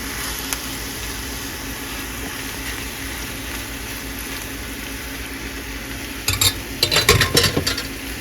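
A spoon stirs pasta in a pan of Cajun pasta, with a low steady sizzle throughout and a cluster of louder scraping and clattering strokes near the end.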